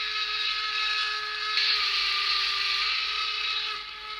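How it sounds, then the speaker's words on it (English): A sustained steam whistle sounds from a Fleischmann DR 44 model steam locomotive with a digital sound decoder, one long steady blast held for several seconds, fairly loud and alone. "that's the local whistle for open line"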